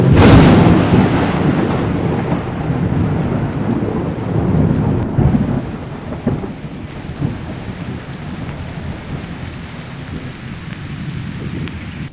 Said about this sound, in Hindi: आकाश से ज़ोर ज़ोर से गरजने की आवाज़ आ रही है